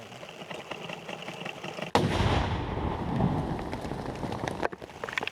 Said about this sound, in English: It needs to be detonated on the spot with TNT.